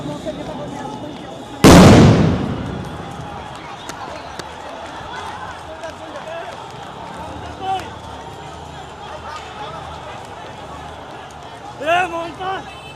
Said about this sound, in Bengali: একটি সাউন্ড গ্রেনেড ইতিমধ্যে নিক্ষেপ করেছে আইন শৃঙ্খলা রক্ষাকারী বাহিনী